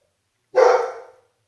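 A single loud dog bark, sharp and close, ringing out once and then fading into silence.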